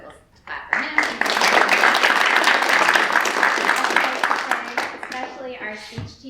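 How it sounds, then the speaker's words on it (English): A school audience at a class production of A Midsummer Night's Dream applauds the students' English teacher, a dense sustained burst of clapping that swells after a brief pause, then fades as a voice resumes. "so we'll clap for him"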